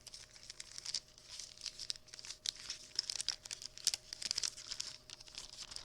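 Plastic packaging around a paper-crafting embellishment is sliced down the side and handled, giving close, quiet, irregular crinkling and crackling with sharp little snaps scattered throughout.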